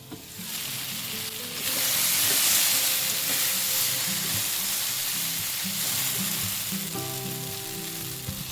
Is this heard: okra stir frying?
yes